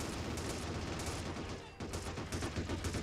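Sustained 20mm flak cannon fire rattles in the video game Men of War Assault Squad 2, a dense, loud burst of rapid shots with a brief dip before the firing resumes.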